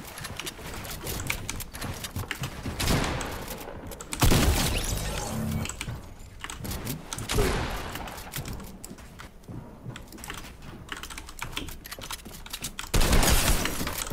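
Gunfire in the video game Fortnite comes in repeated bursts and rapid volleys over about fourteen seconds, loud and close, with short gaps between the clusters of shots.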